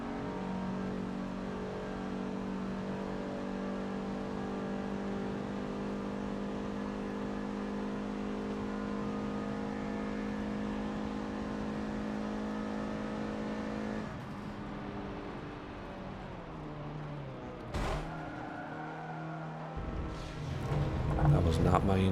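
A Dodge Omni engine drones steadily while racing in Forza Motorsport 7, holding a sustained revving tone before shifting and surging near the end, with a person talking over it.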